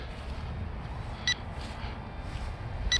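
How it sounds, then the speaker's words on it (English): Two short, high electronic beeps from an RC airplane transmitter for a KF700 J20 model, spaced well apart over steady outdoor wind noise. "I've got a beeping transmitter"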